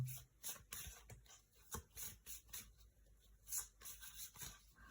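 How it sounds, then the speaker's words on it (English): Quiet, close riffling and soft slapping of cards being shuffled, with repeated brisk rustles and taps. "let's give these cards a shuffle."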